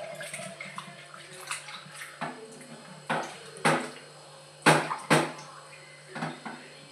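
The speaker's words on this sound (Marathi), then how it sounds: "2 पाण्याने धुवून चांगलं काढून घ्यायचं" Bitter gourd pieces washed by hand in water in a kitchen bowl, with repeated splashes and sloshing bursts, occasional clinks of a vessel, fairly close.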